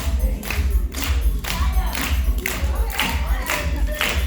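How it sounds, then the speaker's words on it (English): An audience at a pre-K graduation claps in a steady rhythmic beat, roughly two claps per second, over booming music. "Clap your hands."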